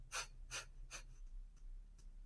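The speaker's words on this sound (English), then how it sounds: "So you're going to take short inhales and exhales through your nose." Kapalabhati breathing, sharp forceful exhales through the nose, three clear close bursts in quick even rhythm followed by two fainter ones, quiet and alone.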